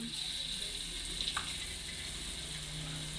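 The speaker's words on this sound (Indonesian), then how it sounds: "Kita akan goreng." Spinach and sweet corn fritters frying in hot oil, a steady even sizzle and crackle throughout with a brief bubbling flare near the middle, close up and without talk.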